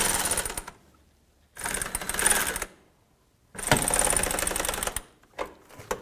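Fog light mounting nuts on a 2007-2017 Ford Expedition are run down with a power tool, three loud close bursts of rapid buzzing rattle separated by pauses, plus a short final burst.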